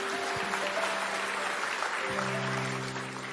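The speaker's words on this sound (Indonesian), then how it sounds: "Kasih tepuk tangan untuk Tuhan." Church congregation applauding during a service, a dense, steady wash of clapping with a sustained organ or keyboard tone droning underneath throughout.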